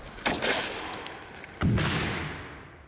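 Two heavy, booming VOG grenade blasts about a second apart, fired at ballistic body armour, each with a sharp onset and a long rumbling decay, heard from a moderate distance with no talking.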